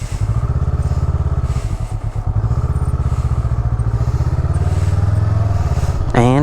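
A motorcycle engine putters steadily at low speed during slow-speed endorsement test practice, a close, loud, even throb with a brief rise in revs at the very end.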